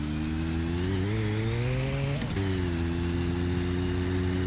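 A motorcycle engine in My Summer Car revs steadily on slippery ground, rising in pitch, dipping briefly during a gear shift, then settling into a constant drone, loud and close throughout.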